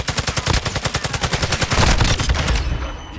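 Rapid automatic gunfire in a shooter video game on the Shipment map: a fast, steady burst of loud, evenly spaced shots lasting about two and a half seconds, then tapering into a short fading echo.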